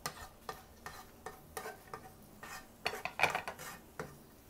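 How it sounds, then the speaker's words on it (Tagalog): Garlic sautés in a little oil in a pan for Kapampangan-style chicken pastel, a spoon scraping and stirring in regular close strokes over a soft, faint sizzle. "Maggigisa na po tayo. Unahin po natin yung bawang."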